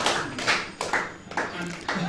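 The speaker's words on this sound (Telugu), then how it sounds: "సాయి కృష్ణకి ఒకసారి గట్టి క్లాప్స్ చెప్పండి" Clapping from an audience at a spiritual talk on the Buddha's eightfold path, arriving in several short bursts of hand claps, close and fairly loud, interleaved with a speaker's voice.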